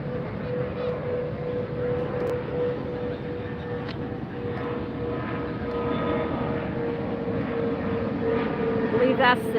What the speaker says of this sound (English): I see the British Airways A380 is taxiing up for takeoff